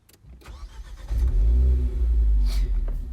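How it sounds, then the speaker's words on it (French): A Renault Clio 4 RS engine starts up close. A brief starter whirr catches into a loud, deep rumble that settles into a strong, steady idle. "Je vais démarrer la voiture."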